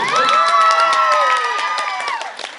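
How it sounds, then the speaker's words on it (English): Game show audience bursts into cheering and applause for a contestant, loud whoops and shouts over clapping that fade toward the end. "Give him a round of applause, please."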